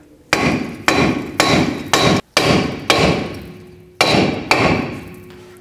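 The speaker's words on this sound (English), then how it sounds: "So you can take a hammer and hit in between the studs." A hammer strikes a rusted, stuck front brake rotor on a 1997-2004 Dodge Dakota between the wheel studs, about eight loud, close metallic blows at an uneven rhythm with brief ringing after each.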